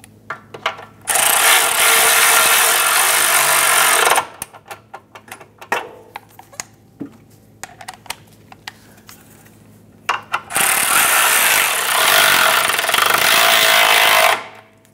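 A power tool runs down the bolts on a front forward subframe bushing of a 2008-2013 Nissan Rogue, two sustained loud bursts of several seconds each, separated by scattered clicks and clanks of handling.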